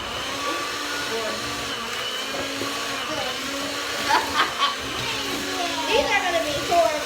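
A blender whirs through butter and sugar for cupcakes in a home kitchen, a steady high motor whine with pitch shifts as it works, while children and adults chatter over it.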